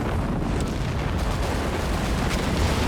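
Artillery shells from a creeping barrage erupt in a Company of Heroes 3 4v4 battle: a dense, continuous roar of overlapping explosions and deep rumbling, loud and steady, with no talk.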